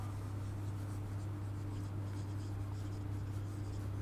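A pen writing out a definition on a board or page during a science lesson, a steady continuous scratching with a low constant hum behind it and no talk.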